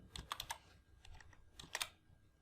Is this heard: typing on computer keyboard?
yes